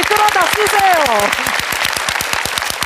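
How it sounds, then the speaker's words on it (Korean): An audience at a talk concert claps in a strong, even rhythm, a loud crowd of hands beating steadily while a voice speaks over the first part. "그럼 박수 한번 주세요. 박수는 신나게 힘차게 좋은 에너지 끌어다 쓰세요."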